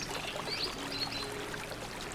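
Steady broadband rush of a river flowing through a forest on a calm afternoon, continuous and even like pouring water, with faint high bird-like chirps above it and no talking.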